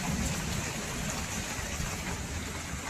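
Heavy village downpour with an unbroken wash of dense, loud hiss. The rain is steady and even, with no voices heard.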